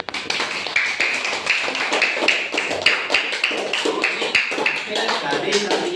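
Schoolchildren in a classroom clap their hands in a brisk, uneven patter of many small claps, close and fairly steady, with scattered thumps, shuffling and voices mixed in.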